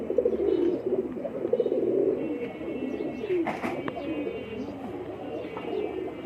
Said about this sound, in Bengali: এই যে আমার কবুতরটা,